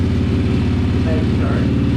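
A Power Wheels Gator build with a small engine fires up with the choke on and settles into a steady, close, loud idle with an even putter, running alone.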